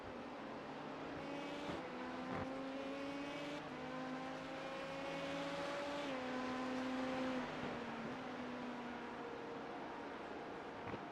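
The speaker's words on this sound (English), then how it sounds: "There's a faster car approaching." Race car engines in the iRacing sim at Spa, a steady multi-tone engine whine whose pitches slide as a faster car approaches and passes, fairly faint throughout.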